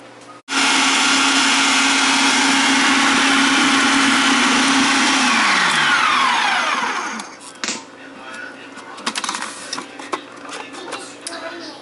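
A blender whirs loudly and steadily as it purees a raw vegan breakfast with greens, its motor pitch sliding down before it cuts off, leaving small clinks and handling noises.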